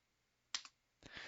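A few quiet computer keyboard keystrokes, a pair of close clicks followed by a short burst of typing, on a Linux machine while writing C code in a terminal editor.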